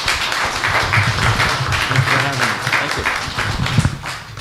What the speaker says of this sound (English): thank you very much for a round of applause, I think, for our panelists